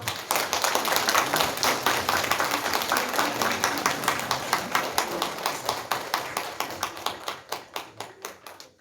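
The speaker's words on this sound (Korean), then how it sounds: "그때 박수 한번 쳐주시고요" Congregation clapping at a church service, a steady rhythmic round of claps that thins toward the end into a few separate, slowing claps.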